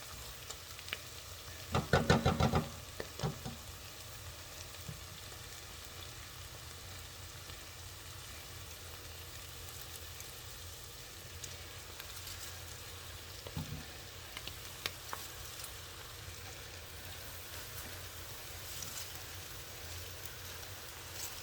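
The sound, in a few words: cabbage and seasoning being added and fried in a pot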